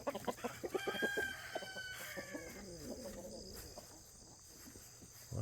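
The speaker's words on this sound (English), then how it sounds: "All the hens are out this morning." Backyard hens cluck and a rooster crows on a garden morning, chattering birds layered with steady insect trilling, fairly close and without talk.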